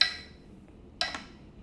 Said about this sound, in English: So I'm still at 60 BPM. I'm not speeding up my metronome yet.